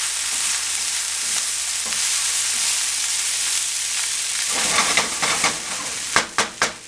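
Mushroom Spam fried rice stir-fried in a pan over near-max heat, a steady close sizzle and hiss with a few sharp scraping clinks of the spatula near the end; no talking.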